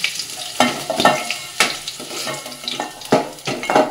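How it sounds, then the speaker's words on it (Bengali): Potatoes frying in a pan with salt and turmeric, a loud close sizzle punctuated by repeated sharp scrapes and clinks of a spatula against the pan. "সাথে নুন, অল্প একটু হলুদ দিয়ে আলুটা ভালো করে ভেজে নেব।"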